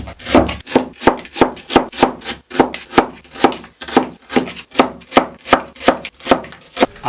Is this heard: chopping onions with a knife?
yes